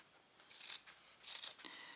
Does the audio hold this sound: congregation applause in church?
no